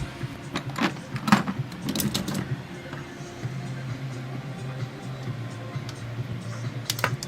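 Sharp plastic clicks and rattles come from a clip being fitted onto a vacuum hose at the upper plenum of a Nissan 350Z engine, in several close snaps with a few louder clicks early on, under a low steady background hum.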